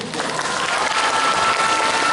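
Audience applause in a Korean lecture hall, steady and dense, filling the whole moment at fairly close range with no voices over it.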